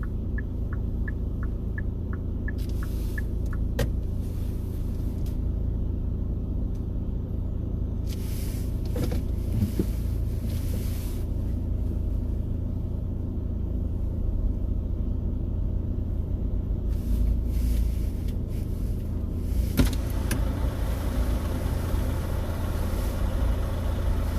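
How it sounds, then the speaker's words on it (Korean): Steady low engine rumble and idling of congested road traffic in snow near Sadang Station exits 4 and 5 in Seoul, with buses and cars crawling past and occasional louder whooshes of passing vehicles over a continuous hum. "차들이 많이 맥힙니다"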